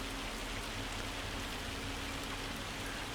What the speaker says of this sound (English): we'll sit out with the rain